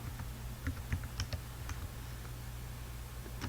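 Quiet, irregular keystrokes on a computer keyboard as an ID number and PIN are typed, with soft clicks in short bursts and no other sound.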